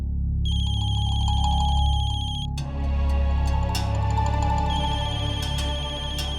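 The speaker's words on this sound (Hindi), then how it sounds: "मम्मा फोन की आवाज तो यही कहीं से आ रही है।" A mobile phone ringtone plays continuously, a bright repeating electronic melody that shifts pattern partway through, clear and fairly close with no talking.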